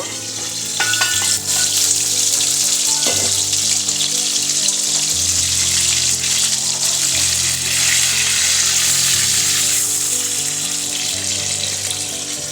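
Fish frying in hot oil in a covered pan, giving a loud, steady sizzle and crackle that runs unbroken throughout with no talking.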